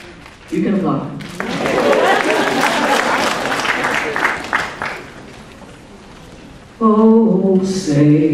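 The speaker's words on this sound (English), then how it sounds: "You can applaud." An audience at an award ceremony applauds for several seconds with dense, steady clapping, framed by a voice speaking briefly before and singing or speaking again after it.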